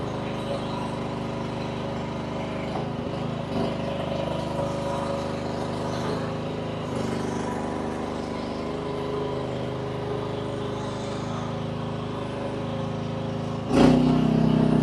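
The engine of a Rippa RS03 runs flat out, a steady, close droning hum that holds at one level throughout. A brief louder burst comes near the end.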